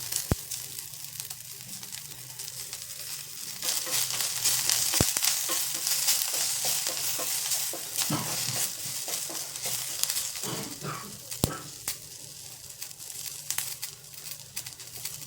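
Asafoetida and curry leaves sizzle steadily in hot oil, a close, continuous crackling hiss that swells partway through, with occasional sharp pops and stirring.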